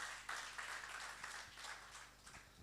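A church congregation claps together in praise, a faint, dense patter of many hands that stays steady throughout.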